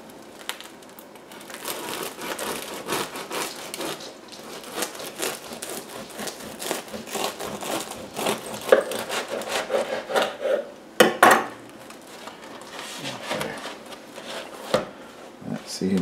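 A knife saws through a slightly warm multigrain sourdough loaf with dry, crackly rasping strokes of the crust, close and fairly loud, with a few sharper crunches partway through.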